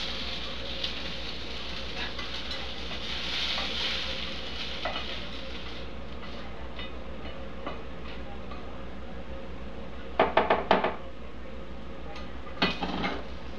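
Chopped onion sizzles and hisses steadily in hot oil while being stirred, with a few sharper scraping clatters of the spoon near the end.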